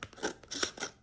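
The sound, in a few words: trimming a paper die cut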